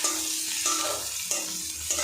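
Chopped onion and green chilli frying in oil with whole cumin seeds, a steady close sizzle broken by a few regular stirring scrapes.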